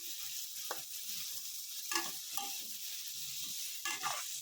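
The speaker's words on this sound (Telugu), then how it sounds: "బాగా కలుపుకోండి." Stirring fish curry with turmeric in a hot oiled pan, a steady sizzle throughout with a few distinct scraping strokes of the spoon against the pan.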